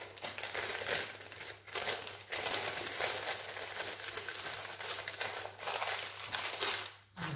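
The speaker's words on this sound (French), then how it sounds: "Retirez le papier au milieu." Baking paper being peeled off a rolled sponge cake for a blackberry-raspberry roll: continuous close crinkling and rustling of paper, with brief pauses and a louder tearing crackle near the end, and no talk.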